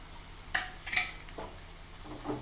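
Curry leaves dropped into hot oil with fried dried red chillies for a tempering, a low frying sizzle broken by a few sharp clinks and stirring knocks of a utensil against the pan, close and fairly quiet.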